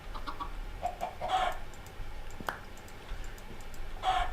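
Soft, sparse clucking from flint chickens in the game StoneBlock, with a few light ticks and a faint background hiss, quiet and somewhat distant.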